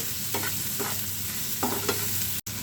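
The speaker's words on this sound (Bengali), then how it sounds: "চিংড়ি মাছটা তেলের উপর একটু ভেজে নিয়ে দিচ্ছি" Steady oily sizzling from a pan with a few short bursts of stirring or scraping, no voices, with a brief dropout near the end.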